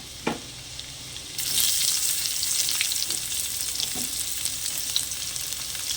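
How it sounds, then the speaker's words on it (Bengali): Chopped ginger and onion for pumpkin ghonto frying in hot oil, opening with a clank, then a sizzle that swells loud and stays steady, with occasional stirring taps from a spoon. "তো হালকা হালকা করে ভেজে নিয়ে দেব পেঁয়াজ কুচি।"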